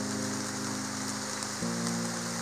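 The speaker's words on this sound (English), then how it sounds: "Starting to sprinkle and rain out here a little bit" Light rain sprinkling outdoors, a faint, steady hiss of drops that runs under a low, constant hum for a couple of seconds, with no talking.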